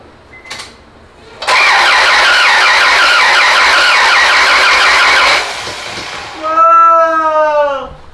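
A Honda Prelude engine cranks over on the starter in a sustained, rapid whirring burst of a few seconds, close and loud, followed by a voice making a rising, wavering exclamation.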